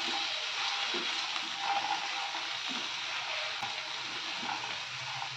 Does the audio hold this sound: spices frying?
yes